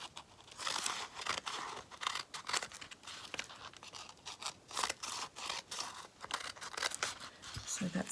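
Scissors cut up fabric snippets at close range, a quick run of sharp snips and crinkling paper-like rustles in an uneven rhythm, some cuts louder than others, with no talking.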